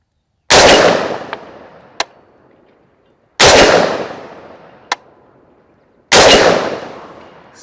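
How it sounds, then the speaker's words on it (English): Three loud booming shots from a Bear Creek Arsenal .458 SOCOM rifle firing factory-loaded ammunition come a few seconds apart. Each blast rolls off in a long echo, and light metallic clinks follow the first two. "Cycled all 3 rounds."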